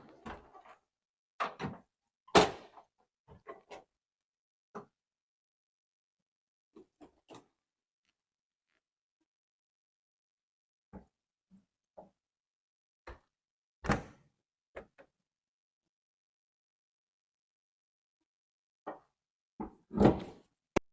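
Scattered metallic clunks, latch clicks and rattles from the tailgate area of a 1976 Ford Bronco Sport with a new rear bumper and tire carrier latch, sharp and close with long quiet gaps between them and a firmer thump near the end.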